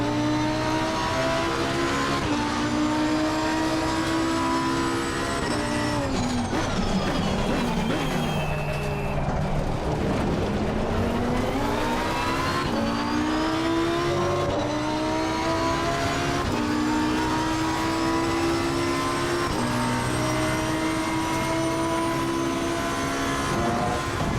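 Race car engines roaring around the Spa-Francorchamps circuit in a racing video game, including a McLaren, with loud continuous revving, rising and falling pitch through gear changes and a passing car sweeping by mid-way.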